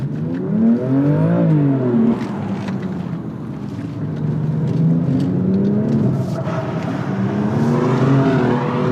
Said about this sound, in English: That was the worst drift we've ever seen.